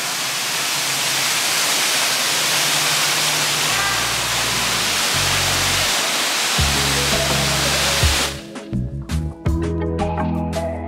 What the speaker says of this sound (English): I'm not sure how high this waterfall goes, but the water is super clear